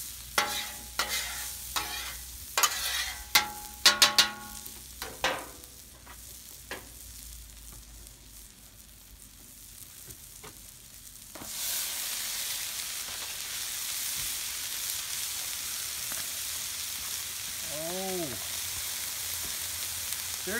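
Leftover rice frying in a pan, starting with clattering stirring and scraping, then settling into a steady broadband sizzle that holds loud and even through the rest of the clip, with a few brief tonal squeaks near the end.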